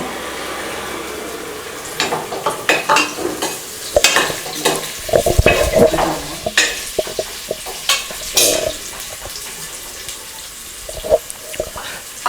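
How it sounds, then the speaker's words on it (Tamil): Onions sizzle in hot oil with green chillies as they are stirred in a pan for mushroom biryani, with loud, irregular scraping and clattering strokes over the frying. "அதிலே வெங்காயம் போட்டுக்கிறோம்."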